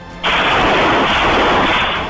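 Gunfire erupts during a police encounter in the Tronica City area of Loni, Ghaziabad, a sudden loud sustained burst of rapid shots or crackling that starts abruptly and stays dense and harsh throughout, with no talk.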